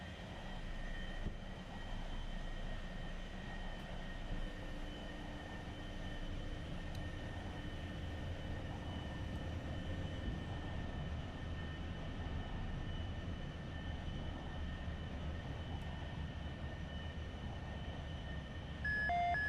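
A jet engine drones steadily inside a flight simulator game with the throttle being raised. The roar is continuous and loud for the whole stretch, with whining tones on top, some brief beeps, and nobody speaking.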